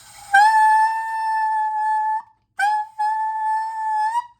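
A saxophone holds one long sustained tone for about two seconds, breaks briefly, then sustains another held note, loud and alone in a lesson on playing whole notes.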